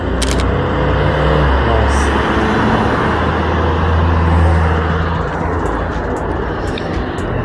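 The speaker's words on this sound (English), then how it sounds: "Maybe a car approaching." A car approaches along a Warsaw street, its low engine rumble building under broad traffic hum, moderately loud and steady.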